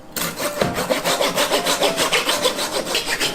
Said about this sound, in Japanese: こういうことしてるとね、包丁かけるからね、ノコギリでいきましょう。